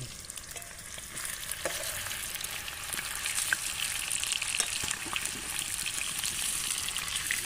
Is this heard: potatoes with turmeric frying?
yes